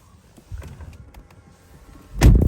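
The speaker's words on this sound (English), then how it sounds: "unlock the car, open the door," Mercedes car door handled in a quiet setting: soft clicks and a faint latch sound, then a solid heavy thunk as the door shuts near the microphone.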